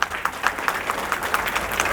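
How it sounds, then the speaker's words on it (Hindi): Audience applause at a Kargil Vijay Diwas victory run event, steady crowd clapping with sharp individual claps throughout, fairly close and sustained. "मैं चाहूँगा सब लोग उनके लिए एक बार ताली बजाएं।"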